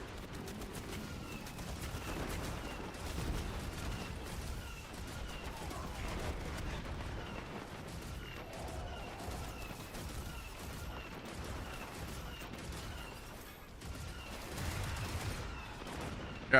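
Gunfire in the Renegades video game, a continuous barrage of distant and mid-range shots and bursts over a steady battlefield rumble, rattling on throughout without pause.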